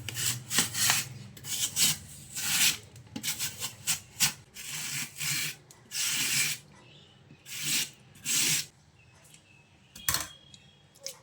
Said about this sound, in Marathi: अशा ह्या किसनीवर आपण हा किस करून घेणार आहोत